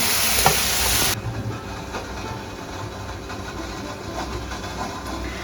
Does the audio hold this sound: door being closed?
no